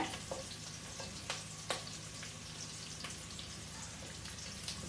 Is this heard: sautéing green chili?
yes